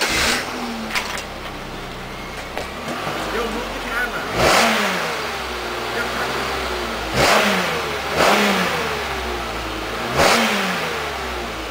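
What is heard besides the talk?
Chevrolet Malibu Maxx engine revving, exhaust sound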